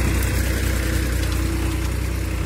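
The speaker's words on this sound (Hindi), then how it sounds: "देख सकते हैं आप ये चल रहा है ट्रैक्टर" A large tractor's engine runs steadily in a farm field, a loud, continuous low rumble with a regular throbbing pulse and no talk.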